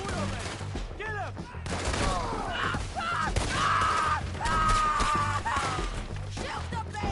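Gunfire rings out through a Red Dead Redemption 2 epilogue shootout, shots cracking repeatedly across the scene amid clattering impacts, with shouting voices mixed in over the loud, busy soundscape.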